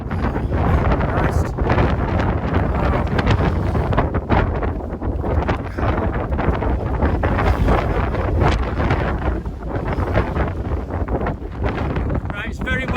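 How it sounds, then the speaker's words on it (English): Strong, roaring gusts of wind on the exposed summit of Haystacks in the Lake District, gusting up to 40 mph with rain nearby, buffeting the microphone loudly and continuously throughout. "it's very wet and windy up here"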